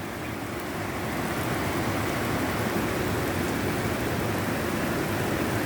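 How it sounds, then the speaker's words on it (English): Rain falls outside as a dense, steady hiss that swells slightly in the first second and then holds at an even level, with no voices. "I just like the rain"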